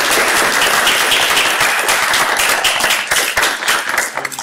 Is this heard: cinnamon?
no